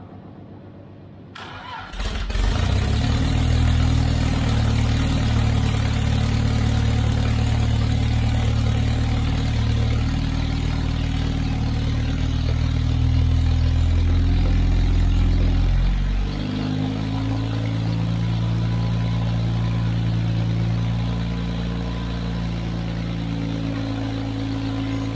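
Austin Healey engine cranks and fires, then runs at a loud, steady idle with deep low rumble, the pitch dropping slightly as the revs settle partway through, with no talk over it.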